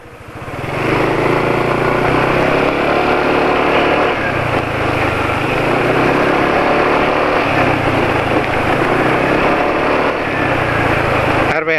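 A motorcycle engine running on Mesran B40 oil idles steadily and close up, with an even, continuous mechanical drone and a soft rhythmic pulse throughout, with no talking.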